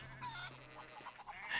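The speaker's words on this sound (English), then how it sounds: "I made a chicken fly!" A chicken in Hogwarts Legacy gives a few short, faint clucking squawks while levitated by a spell, set over a quiet game background.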